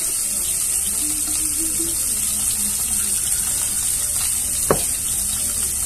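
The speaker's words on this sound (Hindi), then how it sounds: "पानी ज्यादा नहीं डालेंगे।" Water pours into a pot for boiling potatoes as a steady, fairly loud gushing wash, with a single sharp click near the end.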